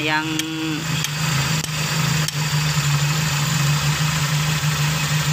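A carburetor car engine idles while its timing is adjusted, a steady low hum with a brief tonal whine at the start and faint clicks, close and continuous.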